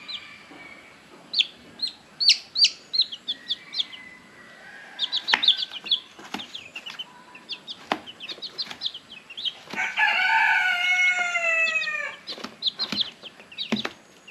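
Chickens on a farm cluck in short, irregular bursts near and far, while a rooster crows with a drawn-out call partway through, amid scattered peeping and clucking.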